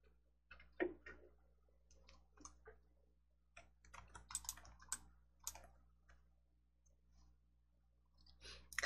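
Light keyboard keys clicking in a quiet room, a short run of scattered taps with a few louder presses, close and faint, with no one speaking.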